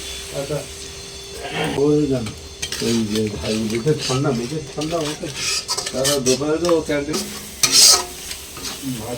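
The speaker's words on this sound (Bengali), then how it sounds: "মশলাটা আরও 2-3 মিনিট কষিয়ে নিয়েছি মিডিয়াম ফ্লেমে" A spice masala with peanut paste and added water fries and is stirred over medium flame, with clinking and scraping of a metal spoon against the pan over a soft sizzle, while someone talks throughout.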